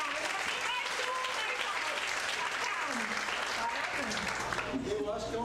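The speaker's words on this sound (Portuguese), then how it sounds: "Palmas, pessoal!" Audience applause at a university accounting-week lecture in Brazil, a steady wash of clapping sustained throughout while voices and other speech carry on over it.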